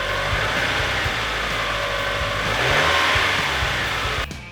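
A Mazda Miata engine revs on a test drive, a steady mid-pitched drone that swells briefly in the middle and cuts off sharply near the end, with no talk over it.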